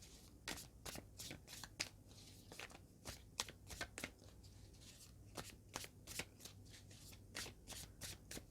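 Tarot cards shuffled by hand, close and quiet, a steady run of crisp riffling flicks and soft slaps repeating over several seconds with no talking.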